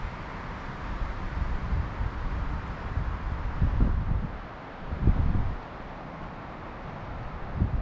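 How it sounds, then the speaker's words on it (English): Strong wind roars steadily across the microphone at the Mogollon Rim vista outdoors, with gusts swelling louder a few times and no voices present. "It's really windy, but super quiet"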